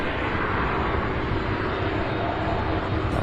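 Boeing 747 heavy jet aircraft at an airport, a loud, steady broadband engine roar that fills the whole moment, close and continuous, with no talk.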